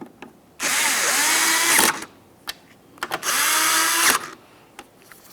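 A power drill drives the two 7mm mounting screws of a 1998-2002 Lincoln Navigator taillight assembly in two whining bursts of about a second each, separated by short clicks and handling knocks.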